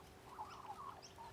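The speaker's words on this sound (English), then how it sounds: "You can hear the Australian Magpies chirping there in the background." Australian magpies carol faintly in the background at an outdoor golf course during a tournament round, a few warbling, melodic calls rising and falling over a quiet low hum.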